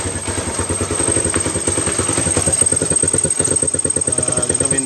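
Suzuki GD110 motorcycle engine running with a misfire, a close, uneven putter of rapid exhaust pulses with irregular stumbles and a faint high whine above, continuous for several seconds.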